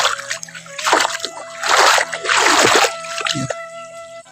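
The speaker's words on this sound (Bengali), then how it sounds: "এটা কীরকম জল, এদিক থেকে জল আসছে" Water splashing and sloshing as it flows into a small rice paddy field in a Bengali village, with bursts of watery gushing and trickling close by, a faint voice underneath.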